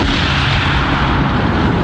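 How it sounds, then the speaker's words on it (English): The Project HARP giant cannon fires a probe with heavy propellant, a loud, dense and sustained roaring blast that fills the whole moment with no pause or talk. "So they added more propellant to create higher pressure inside the barrel and shoot the probes out faster."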